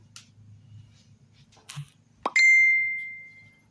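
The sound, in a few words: phone notification sounds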